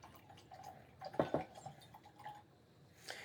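Glenmorangie Lasanta whisky is poured from the bottle into a glass, giving a short, quiet run of liquid glugs and splashes with a couple of louder bursts near the middle. There is no talking.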